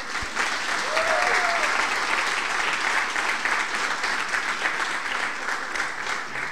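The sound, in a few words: applause for Estevão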